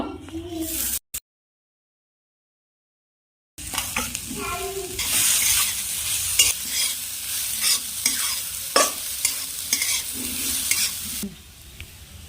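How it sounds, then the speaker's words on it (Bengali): Grated coconut is stirred in a kadai (wok) to make a kadam pitha filling. A short burst of scraping is followed by a few seconds of silence, then steady, close stirring and scraping with occasional sharper clicks. "কড়াইয়ে নারকেল ঢেলে নেব।"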